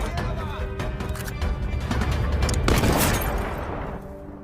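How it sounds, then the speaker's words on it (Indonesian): A sniper rifle is fired at a mirror in a war film about Soviet and German snipers, heard as dense crashing booms with a loud burst near the middle over a rumbling film soundtrack. "Melihat itu, Scud langsung menembak cermin tersebut."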